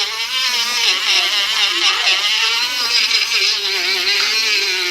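A rotary motor spins a polishing brush loaded with compound against acid-etched copper, giving a steady, close, continuous high whine with slight wavering pitch throughout and no talking.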